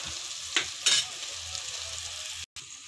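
Tomatoes frying in a pan for egg bhurji, a steady close sizzle with a couple of brief louder spatters or stirring scrapes partway through.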